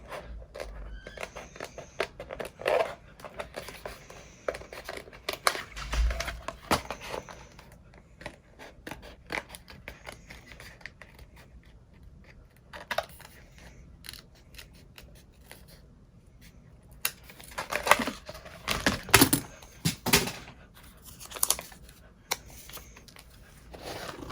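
Scissors snip through glitter iron-on vinyl for personalized Nikes in short, irregular bursts of crisp cutting and crinkling, with quiet pauses between the snips.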